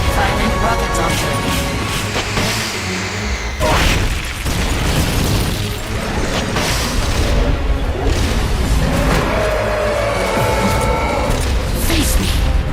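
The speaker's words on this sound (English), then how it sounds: "Firing rocket launcher." Rocket launcher fire in Metal Gear Solid: Peace Walker, heavy booming blasts and explosions layered over dense game music and mechanical clatter, loud and continuous, with in-game voices speaking through the action.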